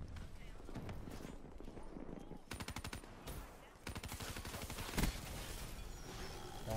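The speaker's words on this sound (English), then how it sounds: "I spent so much ammo on that guy, he still did not die." Rapid machine gun fire in the Black Ops 3 video game, several sustained bursts of automatic shots with brief pauses between them, loud and close in a busy game mix.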